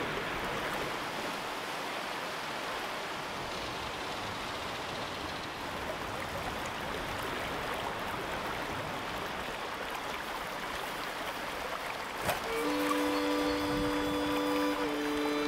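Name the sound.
free-flowing cold water trout stream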